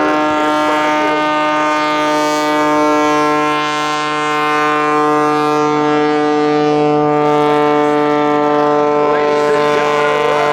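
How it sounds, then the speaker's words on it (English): Sean Tucker's aerobatic aircraft stands on its tail and hovers at an airshow, a loud, steady droning engine roar that holds for several seconds with a slight rise and fall in pitch. "he is going to stand it on its tail and bring this aircraft to a hover in front of you"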